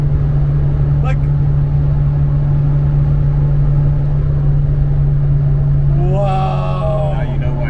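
A 2016-style drone aside: an Opel Kadett GSi 16V cruising in fifth gear around 4,200 RPM, its engine a steady, loud, continuous hum with road rumble, and a voice breaking in near the end.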